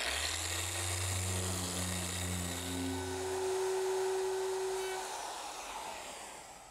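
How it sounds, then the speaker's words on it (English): Steady whine of an electric power sander running on a wooden face frame for an armoire, loud and close with a constant motor hum that slowly fades near the end. "I want to sand the face frame."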